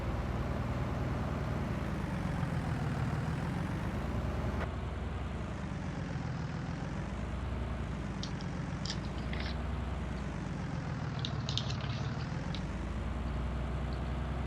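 A low, droning truck engine in Farming Simulator 19 rumbles steadily, its pitch swelling and easing in slow waves, with a few faint high clicks and hisses partway through.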